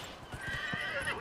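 A horse in Dragon Age: Inquisition lets out a quavering whinny, rising and wavering over about a second, with soft hoof thuds underneath at modest game volume.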